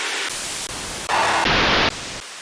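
A white noise sample layer for a hardstyle kick, loud hissing static played in several abrupt segments that change in brightness and level, with sharp cuts between them.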